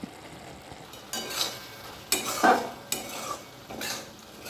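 A watermelon rind vegetable dish cooks down in a pan over a gas flame that has been turned up, with a soft bubbling sizzle and four or five spoon stirs scraping and clinking against the vessel, no voices.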